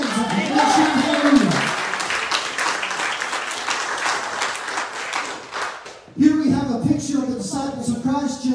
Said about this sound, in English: If that's you, clap your hands.